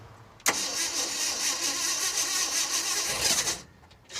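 An old Ford Ranger pickup with low power, run with a jumper wire from battery to ignition coil, starts abruptly and runs steadily for about three seconds with a loud, rough engine note before cutting off.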